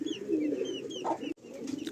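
Old line Madrasi pigeons coo softly in a brief, low, rolling call, heard close with a faint background hum and no voices.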